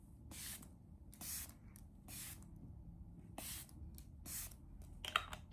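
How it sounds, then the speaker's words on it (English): Short hissing bursts of a fine makeup setting spray, several separate spritzes in an uneven rhythm, close and fairly soft against a quiet room. "Look how fine this spray is."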